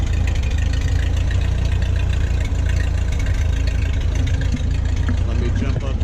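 A Ford 8N tractor with a loader and a new muffler idles steadily, its engine a continuous low, even rumble that stays close and fairly loud with no break and no voices.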